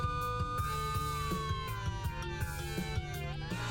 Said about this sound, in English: a police siren is playing from its speakers